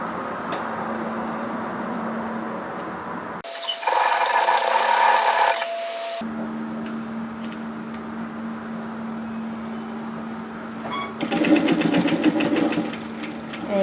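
A sewing machine stitches a knit teddy jacket seam in two loud, rapid whirring bursts, the first lasting a couple of seconds and the second starting after a pause, with a quiet room hum between them.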